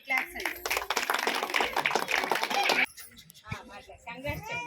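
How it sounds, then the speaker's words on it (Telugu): A small audience at a QSE celebration claps loudly to welcome Sashi madam, founder of the Bangarupalem chain, a dense burst of hand claps lasting about three seconds before speech and children's voices take over. "మేడం కోసం బిగ్ క్లాప్స్ అండి"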